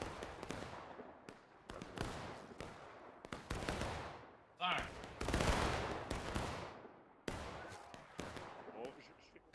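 Musket fire from soldiers at independent fire in the Civil War video game War of Rights crackles as irregular sharp shots and a dense rolling volley, loud and near, with players shouting over it.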